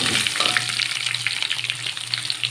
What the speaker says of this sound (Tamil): கட் பண்ணி வச்ச இந்த வெங்காயத்தை நான் சேர்த்துக்கிறேன்